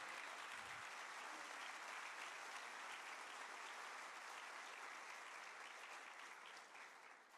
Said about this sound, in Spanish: Yo le daría un aplauso al Señor por eso.